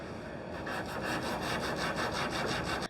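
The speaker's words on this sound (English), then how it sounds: "So I just hand sand that so that I can control it a bit better." Wood veneer on an Art Deco chest of drawers being sanded by hand, a steady rhythmic scratchy rubbing with repeated back-and-forth strokes, close and continuous with no talking.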